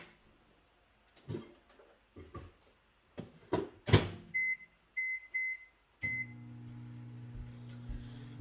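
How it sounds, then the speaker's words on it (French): Kitchen sounds come first: a few door-like knocks and clatters, then a microwave oven heating eggs beeps several times before its fan and turntable hum start up and run steadily, close and moderately loud. "Donc, je vais aller mettre ça au micro-ondes."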